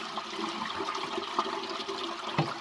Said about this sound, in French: la chasse d'eau.